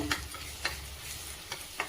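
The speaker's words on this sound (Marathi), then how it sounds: "आता व्यवस्थित परतून घेऊया" Masala for egg curry sautéing in a pan, a soft steady sizzle punctuated by four evenly spaced spoon scrapes against the metal.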